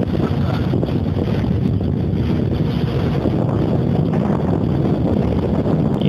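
Steady, loud wind noise buffets the microphone while inline skating fast through small, wet streets in Saint Petersburg, a continuous low rushing roar with no break.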